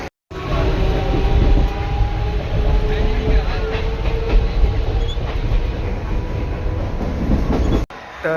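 A train pulling into Ulhasnagar railway station, a loud continuous rumble of wheels and carriages with rhythmic rail clatter, steady and close throughout.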